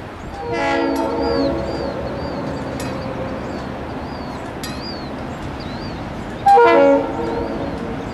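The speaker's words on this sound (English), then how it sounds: "One more train coming by." A train rolls past a railroad crossing with a steady rumble and clatter of cars, its horn sounding near the start and again in a loud blast toward the end, with a faint bird chirping above.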